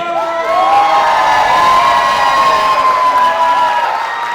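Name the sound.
gala audience cheering for dance team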